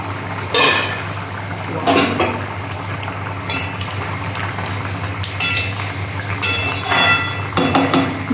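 A metal pot lid clinks and scrapes several times on a cooking pot of fish curry with potato and pointed gourd, sharp clatters standing out over a steady low burner hum.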